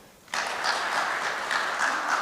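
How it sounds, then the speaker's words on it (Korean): After a conference keynote speech, the audience bursts into applause abruptly and keeps it going steady and full. The clapping of a large seated crowd fills the room to the end. "다시 한번 뜨거운 박수 부탁드립니다"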